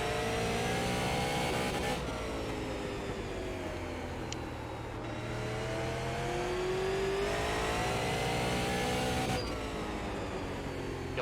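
Super late model race car engine in the iRacing sim, droning loudly and steadily throughout with rising and falling pitch as the car accelerates and lifts around a short bullring oval, with brief dips near shifts or corners.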